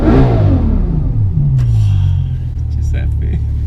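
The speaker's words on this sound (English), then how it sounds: "I'll tell you what is smooth, this V12 engine." A Bugatti Chiron's engine revs under heavy talk, its note sweeping downward as it settles into a steady, loud rumble.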